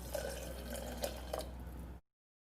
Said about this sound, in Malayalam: ഇനി നമുക്ക് ആവശ്യത്തിന് വെള്ളം കൂടെ ചേർത്ത് കൊടുക്കാം.